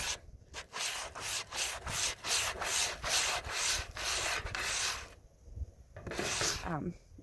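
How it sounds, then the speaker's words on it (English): Sandpaper is rubbed over wood being prepared for staining and stenciling, a close, loud, rhythmic rasp of quick back-and-forth strokes that continues almost without pause and then trails off. "Then I grab my sandpaper and I just give it a quick"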